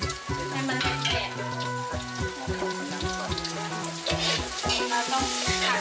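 Dried chili and crushed garlic stir-fry in a hot pan for a Thai and Lao dish, a close, steady crackling sizzle with rhythmic scraping of a utensil against the pan.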